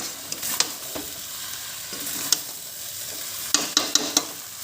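A karahi pan of chicken curry gets stirred over the heat, with a steady sizzle under scattered sharp metallic scrapes and knocks as the pan shifts and turns.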